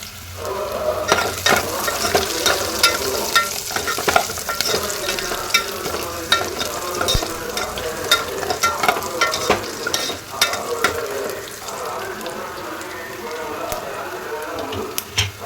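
Onions and green chilies sizzle steadily in a pan while being stirred, with scraping clicks of the spoon throughout, a loud continuous frying hiss; a voice speaks faintly under it.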